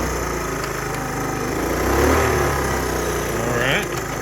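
A 1970 Honda Trail 90 motorcycle engine runs steadily at a low idle nearby, with a slight swell in revs midway, while people talk over it.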